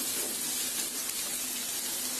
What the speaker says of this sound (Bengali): তেলটা গরম হয়ে গেছে, এখন দিয়ে দিচ্ছি 2 টেবিল চামচ পেঁয়াজ কুচি। পেঁয়াজটাকে একটু ভেজে নিতে হবে।